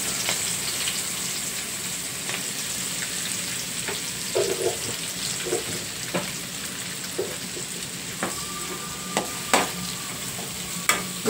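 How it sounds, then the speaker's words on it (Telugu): Green chillies and onions frying in oil give a soft, continuous sizzle, while spatula strokes scrape and tap the pan at irregular intervals, a few sharper knocks standing out near the end. "ఇవి ఇప్పుడు ఈ ఆయిల్లో వేసేసుకుని ఇవి కూడా బాగా గోల్డెన్ బ్రౌన్ కలర్ వచ్చేంత వరకు వేయించేసుకోవాలి."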